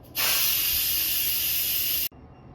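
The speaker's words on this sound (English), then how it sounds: "Now the Instant Pot is done cooking, so let's quick release the steam." An Instant Pot quick-releases pressure after cooking pork belly, a loud steady steam hiss lasting about two seconds that cuts off abruptly, with no talk.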